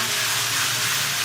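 A brief, steady hiss of minced beef, onion and bell pepper frying in hot oil, loud and close, with no distinct stirring strokes or voices.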